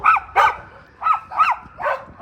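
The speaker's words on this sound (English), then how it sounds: "got some dogs over here" Dogs bark from a yard in a residential neighborhood: five sharp barks in quick irregular pairs, moderately close and clear, with no talk over them.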